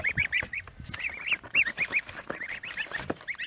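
Many young geese peep in high, rapid chirps, overlapping in a busy chorus with shuffling and rustling nearby.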